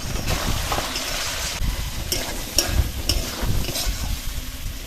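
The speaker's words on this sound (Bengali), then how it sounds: "চাপা দিয়ে দিয়ে কষালেই দেখুন এই যে তরমুজের খোলা থেকে জল বেরোবে" Watermelon rind being stir-fried and pressed down in a pan, steady wet sizzling and frying with scraping stirs throughout as the rind releases its water, close and fairly loud, no speech.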